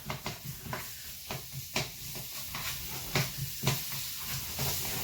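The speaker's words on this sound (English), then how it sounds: "So that's sizzling away there." Sliced chicken breast sizzling in a pan with garlic, a steady hiss of frying broken by irregular clinks and scrapes of stirring nearby, no voices.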